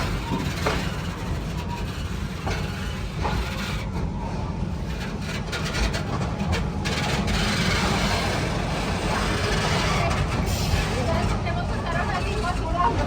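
The Serengeti Express train at Busch Gardens Tampa Bay rolls along with a steady rumble and rattle of the cars, while an onboard narrator talks over the running noise throughout.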